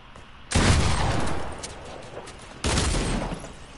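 Two loud bursts of gunfire in a video game, the first lasting about a second and the second shorter a couple of seconds later, with quiet in between.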